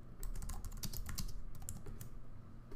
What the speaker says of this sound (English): And I can leave my comment by hitting return on the keyboard.